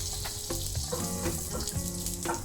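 Oat banana cinnamon pancake frying in butter on a pan over medium heat, a steady close sizzle with faint crackles and a few soft utensil taps, no voices.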